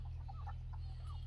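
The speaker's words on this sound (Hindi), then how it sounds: "आगे वाले कड़कनाथ मुर्गी है" A Kadaknath hen clucks softly with a few short, quiet calls over a steady low hum on a poultry farm.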